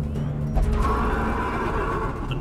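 A horse whinnies in the Darkest Dungeon video game, a single drawn-out neigh lasting about two seconds over a low ambient drone, clear and fairly prominent with no speech.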